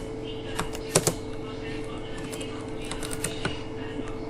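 Clicky keystrokes on a computer keyboard while an Android app is being built, a steady irregular patter with a few sharper clacks, close and over a constant background hum, with a person talking at times.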